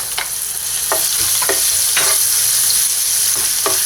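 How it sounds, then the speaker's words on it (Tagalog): Garlic sautés in hot oil in a pan with a loud, close crackling sizzle, broken by repeated short scraping stirs about every half second, and no voices. "magpainit lang tayo ng oil dito sa ating pan at igigisa na natin yung ating garlic"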